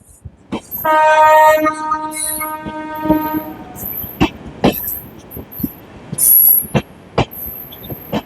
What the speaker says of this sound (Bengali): ট্রেন চলে যাচ্ছে তার গন্তব্য ত্রিপুরা রাজ্যের সাবরুমের পথে